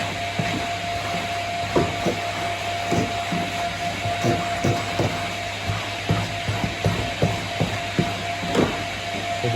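A BigBoi SuckR Pro Plus vacuum cleaner running in suction-only mode with a wide nozzle, a steady motor whine broken by repeated clicks and knocks as the nozzle moves over a surface, no speech.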